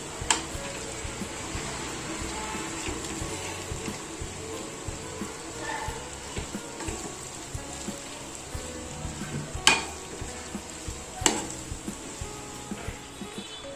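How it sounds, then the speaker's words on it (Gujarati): Shahi paneer Maggi noodles stirred in a pan, a steady close sizzle of frying with scraping clicks and a couple of sharper utensil knocks against the pan, no talk. "હું હવે ફટાફટ હલાવી દઉં"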